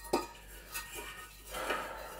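Dishes and cutlery clink and knock while being rinsed, a few brief, sharp clatters spaced apart over faint running water, fairly close and heard alone.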